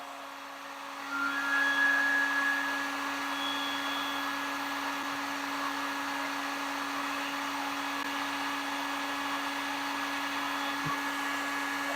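A heat gun blows a steady, even hiss of hot air while shrinking heat-shrink tubing over a ring connector on van switch wiring, holding at a constant level close by with no one speaking.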